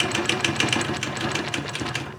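A sewing machine stitches steadily while quilting with a lollipop ruler held firmly in place, a close, continuous mechanical whir with a fast, even pulsing rhythm and no voices.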